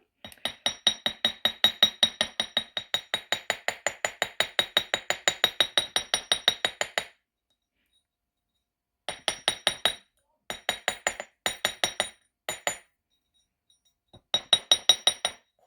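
Rapid, steady metallic hammer taps ring out as wire is hammered flat on a hard block, a long even run followed by several shorter bursts separated by pauses.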